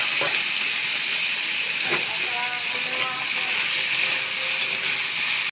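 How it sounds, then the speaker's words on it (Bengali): Potatoes frying in oil for a Bengali fish dish, a loud, continuous broadband sizzle and hiss close by, with faint clinks and a voice speaking underneath. "আমি আলু ভাজছি, মাছটা রান্না করবো বলে।"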